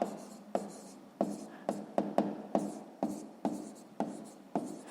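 Pen or pencil writing by hand on paper while working a sixth-grade math exercise: a steady series of short, close scratching strokes, about ten in five seconds, each with a sharp onset and quick fade.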